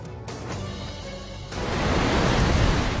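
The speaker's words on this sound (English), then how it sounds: "Waves as high as 7 meters pounded homes and businesses on Chile's coastline." Ocean waves up to seven meters high pound the Chilean coastline, a steady roar of surf that swells louder and denser partway through, with no voices.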